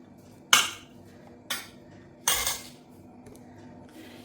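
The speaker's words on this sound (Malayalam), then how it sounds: "എന്നിട്ട് ഇത് നല്ലവണ്ണം ഉടച്ചെടുക്കാം" A spoon mashing cooked rice with chili powder in a bowl, heard as three sharp clinks against the bowl spaced about a second apart, followed by a fainter tap.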